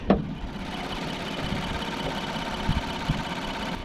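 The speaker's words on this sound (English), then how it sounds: "You got a 3-liter twin turbo V6, 300 brake horsepower, 295 foot-pounds of torque" A 2020 Infiniti Q50 with a 3-liter twin-turbo V6 idles with the hood open, a steady low engine hum heard up close. A sharp knock opens the clip and a couple of faint thumps follow later.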